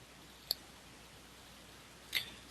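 Two faint, sharp mouse clicks about a second and a half apart while editing a table in the WordPress TablePress plugin, against a quiet background.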